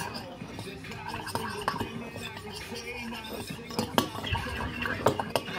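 Ingredients are stirred in a bowl with a utensil, giving irregular close scrapes, clinks and knocks against the side, with soft speech in the background.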